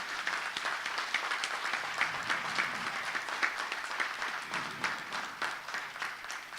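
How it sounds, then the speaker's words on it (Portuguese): Seminar audience applauds the camera crew, photographers and staff, sustained crowd clapping heard from a moderate distance, fairly soft and even with scattered sharper claps, no talking. "Uma salva de palmas para eles."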